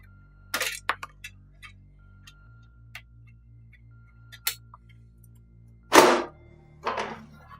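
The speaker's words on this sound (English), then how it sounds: "I'm just going to go ahead and take those two thumb screws off and show you the inside of the computer" Thumb screws being removed from a PC case side panel: a few scattered metallic clicks and thunks with a couple of louder knocks near the end, in an otherwise quiet room.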